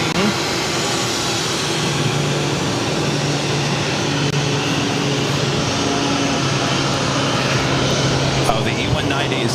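An aircraft takes off from Boston Logan airport in a sustained, loud engine roar that fills the whole stretch, with radio-style voices talking over it.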